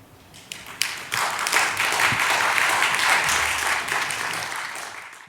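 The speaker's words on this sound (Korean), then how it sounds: "큰 박수 부탁드립니다" After a church history lecture, a few scattered claps swell into full, steady audience applause that holds, then tapers away near the end.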